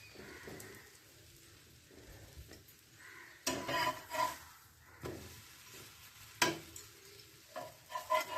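Bread slices for shahi tukra fry crisp in a pan, a faint, low sizzle broken by louder scraping and stirring bursts, while pigeons coo softly in the background.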